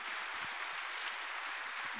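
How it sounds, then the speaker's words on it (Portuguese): Steady, dense applause from a church congregation, even and sustained throughout at a fairly soft, distant level with no voices over it. "vamos aplaudir essa palavra bem abençoada aí"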